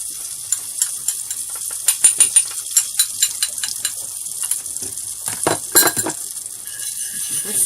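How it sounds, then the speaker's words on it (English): Butter sizzling in a pan for a roux for shrimp bisque, a steady close frying hiss with scattered crackles and a few light clinks of utensil against the pan. "So I've got my butter sizzling in my pan"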